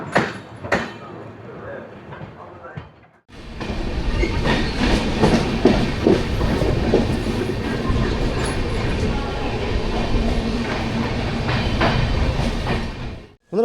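Puri–Shalimar express train running on the tracks, its carriage rumbling steadily with rhythmic clickety-clack of wheels over rail joints, loud and close from inside, after a brief quieter opening.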